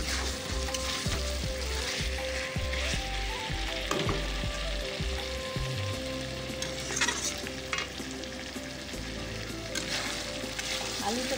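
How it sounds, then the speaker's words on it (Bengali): Chicken sautéing in a pan, with repeated scraping stirs and thumps over a steady sizzle; the stirring rhythm is busiest early, then the frying hiss carries on more evenly. "চিকেনটা বসিয়ে দিয়েছি, চিকেনটা কষিয়ে নিয়ে চলো"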